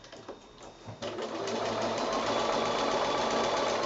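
A sewing machine stitches down a Garden Path quilt, starting with a few soft taps before settling into a steady, fast mechanical whir at close range, with no talking.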